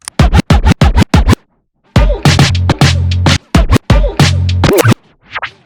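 Turntablist beat juggle cutting kick and snare drum hits between two records, a quick run of sharp isolated hits, a pause, then denser looping drum phrases with scratch-like chops, loud and close.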